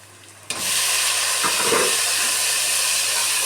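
Tomatoes tipped into hot oil with softened onions for a village-style tomato gravy, bursting into a loud, steady hiss that holds on, with a couple of faint stirring knocks beneath.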